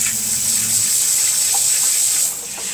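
Water runs steadily from a tap over a rock being cleaned before painting, a constant close splashing hiss that eases slightly near the end, with no talking.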